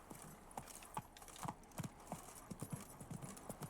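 Horse hooves of Roach in The Witcher 3: Blood and Wine, a steady clip-clop of trotting steps with a brief whinny, close and moderately loud, with a faint voice in the background.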